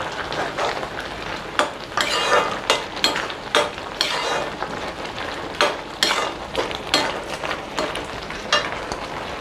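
Tomato jam being stirred in a pan with cardamom, roasted cashews and raisins, giving a run of repeated scraping and clinking strokes over a soft bubbling bed, no talking.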